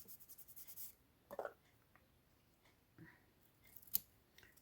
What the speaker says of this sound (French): Hop, je vais venir couper.